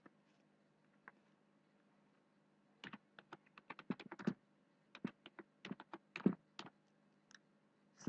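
Typing on a computer keyboard while entering text into an Excel spreadsheet: after a quiet start, bursts of close, crisp key clicks arrive in uneven clusters, loud and distinct with brief pauses between runs.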